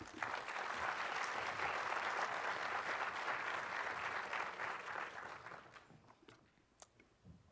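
An audience applauds to welcome curator Janet Bishop at a talk on painters Matisse, Diebenkorn and Thiebaud, dense clapping from a crowd that holds steady for several seconds and then fades out.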